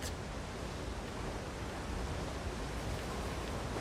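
A waterfall in the video game Elder Scrolls Online, a steady, dense rushing roar that continues evenly throughout.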